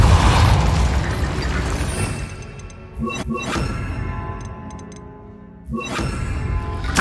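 Depulso force spell in Hogwarts Legacy, heavy mechanical bursts and pops with ringing shatter-like tails, several sharp impacts spaced a few seconds apart.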